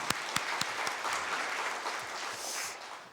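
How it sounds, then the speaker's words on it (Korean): Audience applause at a Korean policy forum, a steady wash of clapping from a seated crowd that swells after a few sharp claps and holds at moderate level throughout. "여러분 큰 박수로 맞아주시기 바랍니다."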